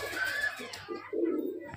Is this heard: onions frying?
no